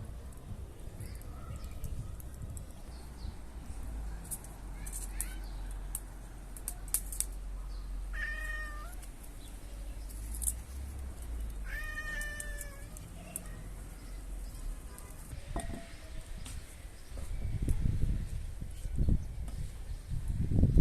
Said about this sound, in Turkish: Kediler haklarını aldı.